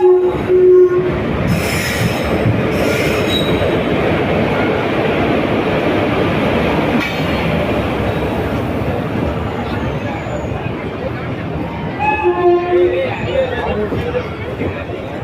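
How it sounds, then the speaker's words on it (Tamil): The SMVT Bengaluru–Tirupati intercity express rolls into an Indian station platform, its wheels rumbling and squealing steadily, with horn blasts at the start and near the end and crowd chatter in the background. "50 minutes டிலேவாக நம்ம SMVT Bengaluru Tirupati intercity express வந்துக்கிட்டு இருக்கு."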